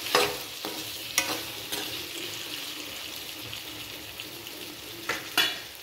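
Potatoes and tomatoes stirred in a pan over a low flame, with a gentle sizzle running throughout and a few sharp spoon scrapes and knocks against the pan, near and alone.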